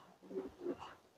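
Pigeons at the Gollamari pigeon market in Khulna give a soft, brief double coo, faint and close, over low background noise.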